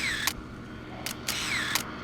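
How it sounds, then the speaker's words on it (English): A compact Casio digital camera fires its shutter several times, each a crisp, close electronic click, some preceded by a short descending beep tone, in an otherwise quiet room. "The shutter delay seems considerably less than I've noticed on Casios in the recent past"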